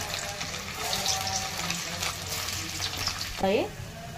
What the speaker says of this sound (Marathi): त्याच्यामध्ये पनीर फ्राय करून घेणार आहे. ते फ्राय करून घेत आहे तेलामध्ये.